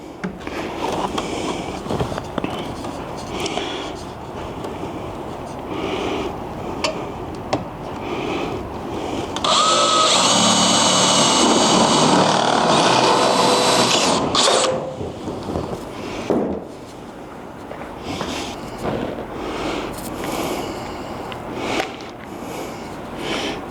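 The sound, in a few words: power drill drilling holes with bit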